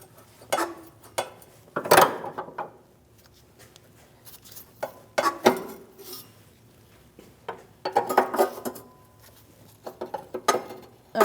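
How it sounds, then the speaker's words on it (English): An 18mm wrench works a nut and bolt free on the rear upper control arm of a Chevrolet Malibu, with scattered sharp metallic clanks and ratcheting bursts separated by quiet pauses. "I'm going to move to the front with my 18mm wrench and break this nut and bolt free"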